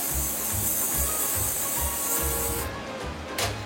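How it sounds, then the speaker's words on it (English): Canola oil cooking spray hissing onto a pizza pan, a steady close airy spray lasting a few seconds that tapers at the end with a brief final burst, no voices. "You're going to spray a little bit of canola spray on it."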